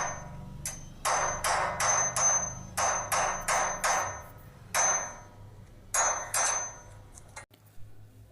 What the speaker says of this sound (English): we just saw a person hitting an iron metal with a hammer and sound was produced